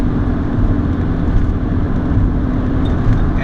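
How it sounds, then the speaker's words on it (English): A high-mileage 2002 Jetta TDI diesel engine at full throttle climbing a hill, a steady loud low drone with constant road and cabin rumble throughout, no talking. "So I'm going up a hill, full throttle again."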